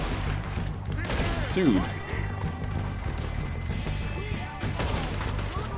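Red Dead Redemption 2 gunfight with rapid bursts of gunshots crackling continuously over background game noise, mid-distance and steady, while someone talks briefly over the shooting.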